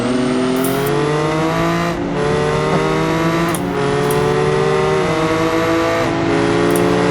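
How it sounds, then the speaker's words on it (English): Car engines drone and rev in BeamNG multiplayer, a loud, sustained harmonic whine with pitch sliding up and down as gears shift, continuous throughout and with no talking. "At least they can't copyright strike engine noises."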